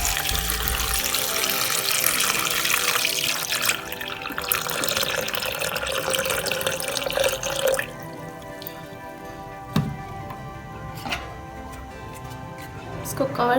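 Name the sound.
water poured into a pot for kheery juice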